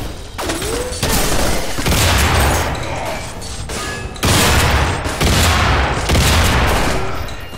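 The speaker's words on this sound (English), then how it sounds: "I can't hear it over all the goddamn gunshots" Dense bursts of gunfire in the video game Underhell, rapid shots and booms piling on top of each other, loud and continuous with brief lulls.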